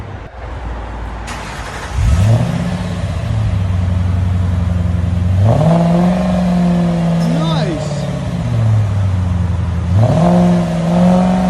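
Ford Thunderbird 3.9L V8 fitted with Borla S-type mufflers, revving in three rising and falling blips over a steady idle, close and loud, with a person briefly speaking between revs.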